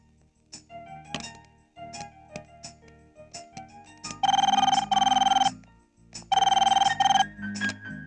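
A telephone rings on an outgoing international call to the USA, sounding in two loud, sustained electronic bursts after a stretch of quieter clicks and tones.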